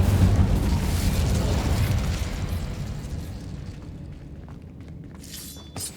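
Fire spell cast in Hogwarts Legacy, a loud whooshing burst that roars at once and then fades away over several seconds, with a few small crackles near the end.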